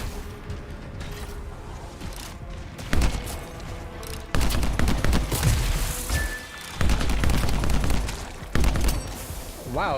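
Sniper rifle gunfire and mechanical clanks from the video game Anthem, several sharp blasts with booming tails amid creaking, ratcheting game sounds, loud and close.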